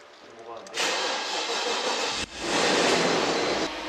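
A 1998 Mercedes-Benz R129 SL500 V8 is cranked with a suspected weak battery or blown fuse, its starter grinding loudly in two long bursts separated by a brief pause, close to the microphone.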